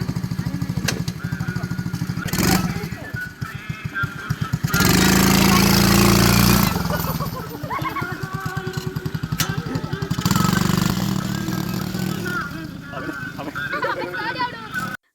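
A quad bike engine at a safari park runs loud and close, its rough buzzing putter rising in bursts of revving and dropping back to idle, with people talking over it throughout.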